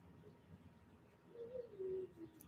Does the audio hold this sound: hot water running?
no